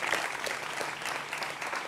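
Studio audience applause welcoming a political debate panel on a TV show, a dense steady patter of many hands clapping continuously at moderate loudness, with no talk.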